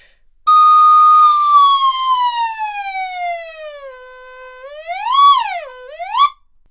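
A pure, whistle-like tone from a Glissopipe sliding recorder, played by running a finger down its magnetic strip, slides slowly downward in a long glissando, then swoops up and down twice before stopping, loud and close.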